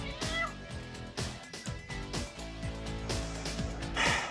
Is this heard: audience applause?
no